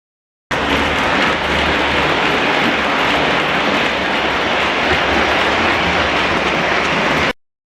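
MTH model trains run on a large O gauge layout, a loud, steady rumble of motors and wheels that holds unbroken for about seven seconds before stopping abruptly.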